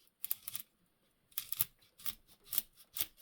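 Scissors snipping through paper in a few quick bursts of crisp, close cuts separated by short pauses, quiet and with no talking.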